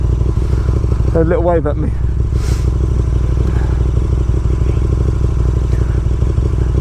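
A 2019 KTM Super Duke R motorcycle on the move, its engine a steady loud drone with rapid firing pulses and wind rush, while a rider's voice speaks briefly over it near the start.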